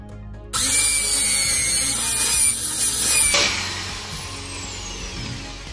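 Power drill drives screws into a homemade bottle-cutting rig, a loud steady whine that starts abruptly and holds for about three seconds, then eases and fades out with the motor winding down.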